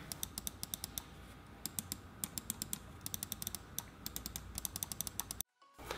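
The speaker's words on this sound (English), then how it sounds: "Top buttons provide a tactile click with nominal pressure." Crisp tactile clicks from the top buttons of a HyperX Pulsefire Core gaming mouse, close and quiet, come in quick irregular bursts of repeated presses with short pauses, then cut off near the end.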